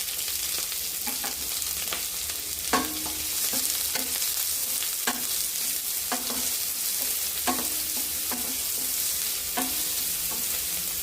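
Green chilies and onion frying in oil with mustard seeds for vegetable masala maggi, with a continuous close sizzle broken by scattered spatula scrapes and clicks, and no talking.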